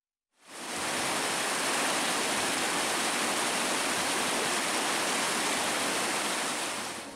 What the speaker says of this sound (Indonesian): banjir lahar dingin Gunung Semeru kembali menerjang aliran sungai Leprak di Lumajang, Jawa Timur